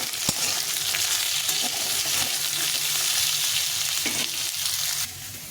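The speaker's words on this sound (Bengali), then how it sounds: "পেঁয়াজের সাথে আলুটা আর উচ্ছেটাও দিয়ে দেবো, দিয়ে একটু ভালো করে ভেজে নিতে হবে।" Onion, potato and bitter gourd fry in a pan under a loud, dense sizzle with scraping stirs, the hiss easing slightly near the end; no speech.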